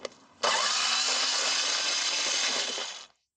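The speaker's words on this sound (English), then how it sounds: "With this little screwdriver it takes less time and we're going to remove all the screws." A small screwdriver backs the headlight screws out of an Audi A3, giving a steady, loud whirring drone of about two and a half seconds that starts abruptly and cuts off sharply, with no talking.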